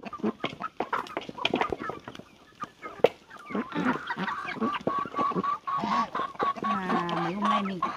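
Chickens crowd around feed on a farm, a hen among them, clucking and squawking loudly and near, with a dense busy chorus of calls throughout.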